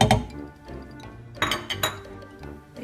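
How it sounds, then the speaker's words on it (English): A spoon stirs coconut pudding in a pot, giving close, irregular metallic clinks and scrapes against the pot with a few louder knocks. "So you want to keep stirring so it doesn't burn at the bottom or stick to the pot."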